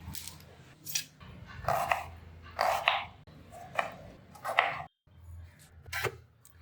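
A knife chops curry leaves on a board for a prawn curry, several crisp separate cuts in an uneven rhythm with short pauses between strokes, close and fairly loud with no speech.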